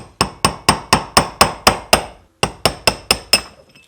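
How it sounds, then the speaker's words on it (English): A hammer taps a brass drift to knock out a transfer case seal on a third-generation Toyota 4Runner: about a dozen sharp, evenly spaced metallic strikes, a short pause, then five more, close and loud with no talking. "grab our hammer, and just lightly tap out the seal"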